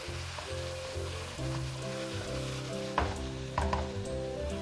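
Chicken ginger karahi with green chillies sizzles steadily in a pan, with a continuous close frying hiss and a couple of louder scraping stirs of the spoon partway through.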